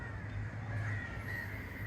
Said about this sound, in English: And there's often these crows that hang out here.